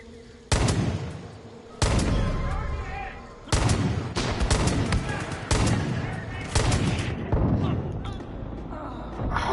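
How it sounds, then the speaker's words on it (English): Desert Eagle pistol shots in the Far Cry 5 video game arcade, several loud, sharp reports fired in irregular bursts with lingering echo between them. "How many bullets how many deagle shots did that guy take?"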